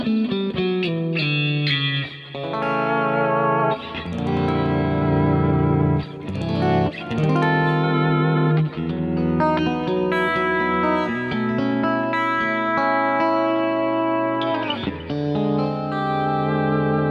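Electric guitar run through effects units with distortion, chorus and reverb, played continuously as sustained chords and melodic lines with a few brief pauses, loud and close with no talking.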